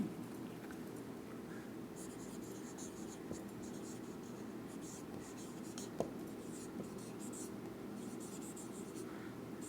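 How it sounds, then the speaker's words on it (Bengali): Faint scratching of writing on a board during a botany lesson, soft continuous strokes over a low room hum, with a single small tap partway through. "এইটা লিখে দিই"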